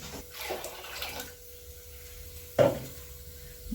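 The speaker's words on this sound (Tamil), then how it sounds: "இன்னும் கொஞ்சம் தண்ணி ஊற்றலாம்" Water is poured into a simmering mutton and field bean curry in a pot, giving a few short splashing gushes with quieter bubbling between them, close by and without talk.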